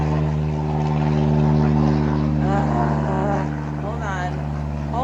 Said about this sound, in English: I really wish this airplane would go the hell away